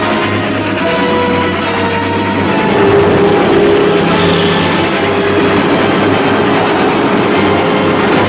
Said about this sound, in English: The train's already gone through the junction.